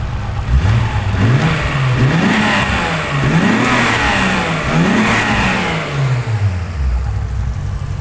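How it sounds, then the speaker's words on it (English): An RB26-powered Toyota Supra accelerates hard on a highway, heard from inside as the engine climbs through the revs, drops back on each shift and climbs again in a loud, continuous run. "So imagine you have 50 Supras, but your personal car has an RB26 in it."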